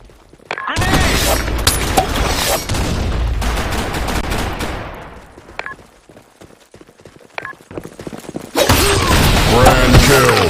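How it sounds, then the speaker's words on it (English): Loud explosions and rapid gunfire fill a video game battle, with a blast-heavy stretch, a quieter gap of scattered shots, then another dense burst. "Grenade!"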